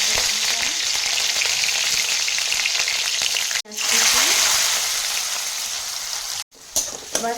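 Green chilies frying in hot oil for Punjabi dal tadka, a loud steady sizzle with two brief dropouts and a stir near the end, no voices.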